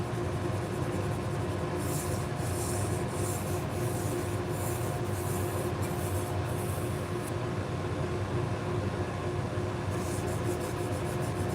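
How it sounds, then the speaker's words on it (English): Pet grooming shears are sharpened against an abrasive-wrapped PVC pipe, giving a continuous, even grinding rub throughout, with a run of light, rhythmic swishing strokes laid over it in the middle and near the end. "I use a piece of PVC pipe with an abrasive wrapped around it."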